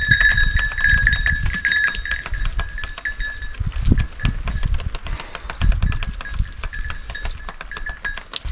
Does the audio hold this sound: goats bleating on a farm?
yes